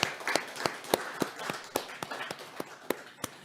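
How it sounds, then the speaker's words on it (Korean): Scattered claps from a church congregation at a New Year's Eve worship service, sparse and uneven rather than full applause, a dozen or so sharp hand strikes spread over a few seconds in a reverberant room. "우리 하나님께 감사와 영광의 박수 한번 드리겠습니다"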